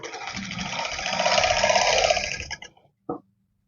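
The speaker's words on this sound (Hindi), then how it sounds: "मिडल में सिलाई लगाते हुए आप ध्यान रखें कि आपको ये खींच के सिलाई लगानी है।" A sewing machine stitches the middle seam of ladies' trousers as the fabric is pulled taut. A steady, fairly loud mechanical whir runs for about two and a half seconds, then stops, followed by one short clack.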